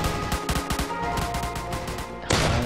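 Rapid bursts of gunfire crackle over dense, loud game noise, a dozen quick shots in an uneven rhythm, then a sudden louder wash of sound.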